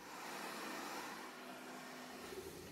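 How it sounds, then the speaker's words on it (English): A handheld hair dryer blows steadily across wet acrylic pour paint on a TV stand, a constant close whooshing drone with no talking. "I'm just gonna take my hair dryer and blow it out a bit."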